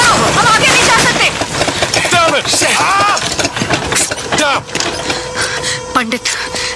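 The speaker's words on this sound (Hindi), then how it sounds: "मधु इंजन बंद करो, हम आगे नहीं जा सकते।" A boat's engine running under loud talking voices, a steady mechanical chug heard throughout the scene with clattering knocks.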